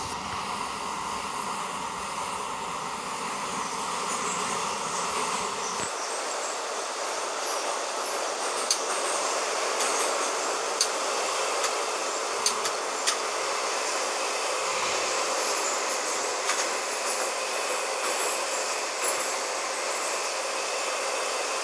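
Metro train of the 81-717 type riding between stations on the Minsk metro, a steady loud rumble of wheels and carriage noise with a deeper roar fading after a few seconds, faint rail squeals and clicks over the continuous din.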